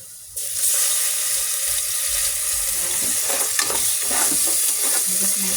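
Garlic, onion and ginger sauté in a pan for chicken feet adobo, with soy sauce just poured in. Steady close sizzling and frying fill the scene, with light stirring scrapes and no talk.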